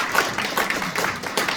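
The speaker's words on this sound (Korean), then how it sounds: "이게 정말 자세하게 설명해 주신 부위원장님께 박수 한번 드리겠습니다" Audience applause at the launch ceremony of a Democratic Party game special committee, honoring the vice-chairman: a steady wash of clapping from many hands, fairly close and even throughout, with no one speaking over it.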